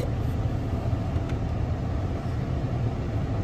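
A car drives along, a constant low road and engine rumble with no breaks and no talking.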